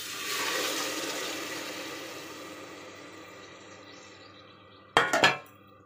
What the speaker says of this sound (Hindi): अब मैं अदरक लहसुन और टमाटर डालूंगी।